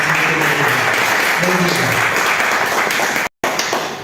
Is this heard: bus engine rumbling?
no